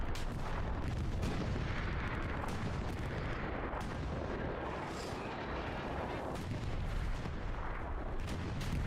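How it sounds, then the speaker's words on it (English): Rocket impacts and heavy booms in Hell Let Loose, a World War II shooter, layered over continuous gunfire and dense battlefield rumble, loud throughout with no clear pauses. "Krim gets one rocket in."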